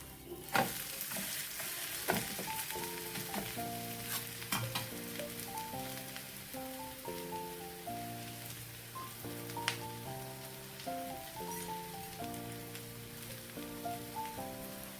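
Pesarattu, a green gram crepe, fries in ghee on a hot pan, giving a bright continuous sizzle and crackle with scattered pops, with soft music underneath throughout.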